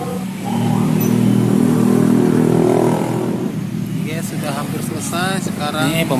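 A chainsaw engine fires up and revs loudly after a carburetor installation, a steady roaring drone that eases off before someone speaks over the idling motor.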